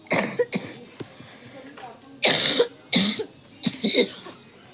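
Several harsh coughs come in bursts, a couple early and a cluster of three loud, close coughs later, with short pauses between them.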